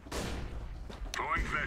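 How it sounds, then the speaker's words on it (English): A flashbang grenade goes off in CS:GO, a sharp thump followed by a ringing high-pitched whine, with gunfire-like bursts mixed in over a short stretch of game audio. "Throwing flashbang."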